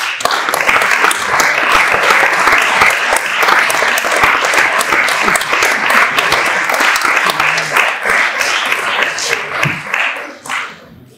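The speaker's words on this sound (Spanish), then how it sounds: "la verdad es que me gustaría que me dieran un aplauso" Enthusiastic crowd applause fills a gala awards evening at La Cartuja Baja, dense and loud clapping sustained for about ten seconds before tapering off near the end.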